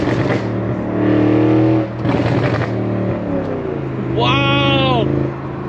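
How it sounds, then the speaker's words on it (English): A Stage 2 Audi RS6 with a Milltek exhaust, tuned to 750 hp, revs hard and crackles with exhaust pops on the overrun. The engine drone is loud and near, with sharp bursts between the pulls, and excited voices speak over it. "those pops and bangs!"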